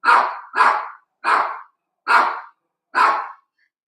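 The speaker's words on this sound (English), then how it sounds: "My dog going ballistic over here." A dog barks five times in a steady series, loud, close and evenly spaced, each bark sharp and full, with silence between them.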